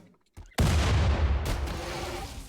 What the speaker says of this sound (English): Just in time for the nade to pop off right there.